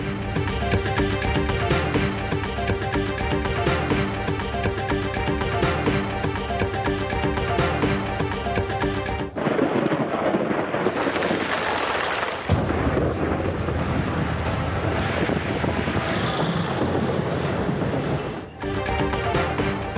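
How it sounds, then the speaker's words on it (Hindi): A thunderstorm over Hyderabad, Sanghar and Tando Mohammad Khan, with strong wind and heavy rain, roars loud and continuous, cut by abrupt shifts and a burst of hissing rain partway through. "हैदराबाद, सांगड़ और टंडो मोहम्मद खान में तेज आंधी के साथ मूसलाधार बारिश।"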